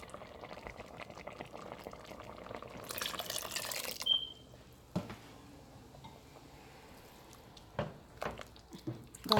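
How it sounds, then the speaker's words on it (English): About a cup of water pours steadily into a pot of Ghanaian corn porridge for a few seconds, then stops, followed by quieter clinks and light stirring or splashing sounds. "I'm going to add in water again, about 1 cup of water again to it"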